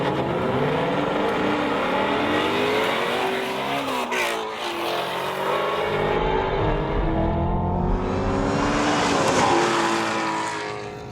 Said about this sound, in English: Drag race, go!